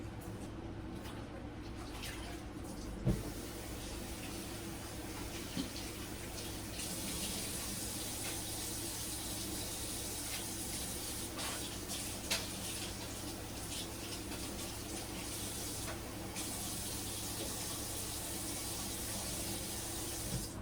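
Tap water running in a kitchen sink while a dish is rinsed out, a steady hiss of flow with a few light knocks, constant for about twenty seconds with no talking.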